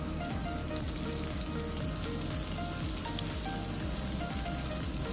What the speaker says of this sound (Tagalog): Pwede na natin itong i-deep fry